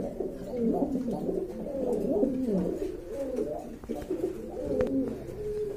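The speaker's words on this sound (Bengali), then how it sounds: "এক জোড়া লক্ষা কবুতর দেখতে পাচ্ছেন, এটা হচ্ছে হোয়াইট লক্ষা" A pair of white fantail pigeons coo continuously in soft, low, rolling phrases, close and fairly quiet, with faint background noise and no talking.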